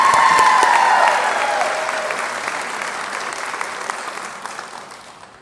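Applause for nursing graduate Sarah Shelton Campbell at a College of Nursing ceremony: a loud burst of crowd clapping that fades steadily over several seconds.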